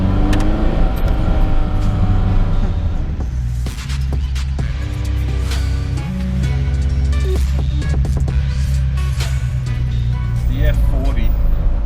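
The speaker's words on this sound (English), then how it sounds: "you just press the throttle and the car has to pull" A Ferrari F40 pulling hard on a Sydney street, its engine droning loud and steady with rising and shifting tones throughout, while someone talks over it.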